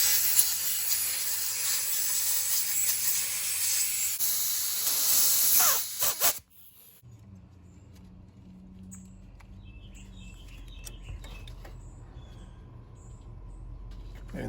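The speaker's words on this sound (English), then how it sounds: "we're gonna hit this with a little bit of compressed air also" Compressed air blasts into the Zenith 40 TIN carburetors on a Porsche 911 that will not idle, a loud broadband hiss for about six seconds before cutting off to a quiet workshop background.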